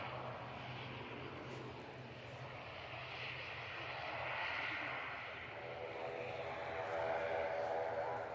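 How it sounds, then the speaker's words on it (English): An Aer Lingus airliner arriving from Dublin touches down at Manchester Airport, its engine noise a distant, moderate rumble that swells gently and fades, with a faint breeze in the background. "This one's the Aer Lingus. And that's touching down from Dublin."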